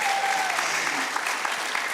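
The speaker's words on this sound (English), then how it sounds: "Come on, can we give another clap offering?" An audience at a cultural performance claps together in a dense, even burst of applause that fills the whole moment, with a faint voice briefly audible underneath.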